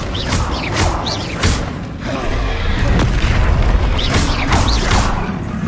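Bombarda blasting spell in Hogwarts Legacy, heard as several booming magical blasts with whooshing bursts over a steady low rumble of game background noise.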